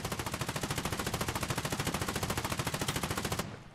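Friendly machine-gun fire in the Foxhole war game: a steady, rapid automatic burst of evenly spaced shots, loud and close, runs for about three and a half seconds and then stops abruptly.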